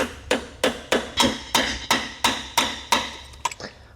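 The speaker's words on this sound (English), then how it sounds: "a pry bar that I'm inserting from the bottom that I can hammer on from the bottom side" A hammer strikes a pry bar set under a Tesla Model S P85 large drive unit to break a corroded gland loose. About ten sharp metallic blows land in a steady rhythm, close up, with no speech.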